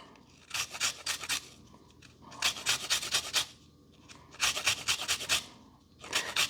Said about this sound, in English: We're going to zest this up, cut it in half, get the juice out, zest and juice.